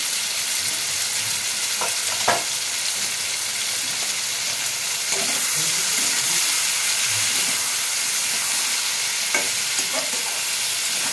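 Onions frying for a poppy seed dish give a continuous sizzle, with occasional scraping stirs and light clicks of a utensil against the pan throughout.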